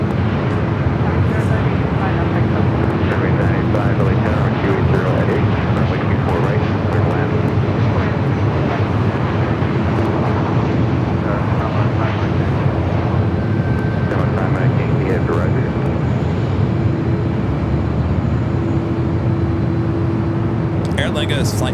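Airliners take off at Los Angeles airport, a loud, continuous jet engine roar that stays steady throughout while someone talks over it.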